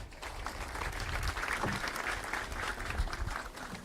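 An audience at the opening ceremony of a spearfishing competition applauds in a sustained, dense burst of clapping that stays loud and even throughout.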